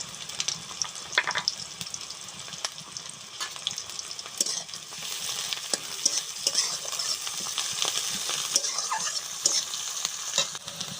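Whole spices with a torn bay leaf and radhuni seeds frying in hot oil for a mixed leafy greens ghonto, with a steady close sizzle under the scrape and clink of a stirring spoon and no talk.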